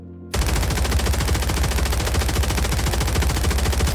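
A Warzone 3 SMG fires in the firing range: after a short quiet start, one long, loud, unbroken burst of very rapid automatic shots continues to the end.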